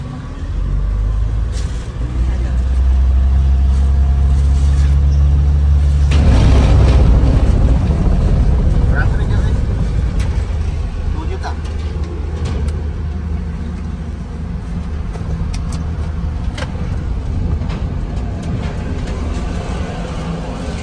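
A private car drives up onto the upper deck of a ferry, with a steady engine rumble that swells midway and then settles into a continuous low drone.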